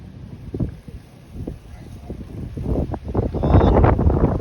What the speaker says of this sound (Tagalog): Sobrang lakas ng hangin, lamig.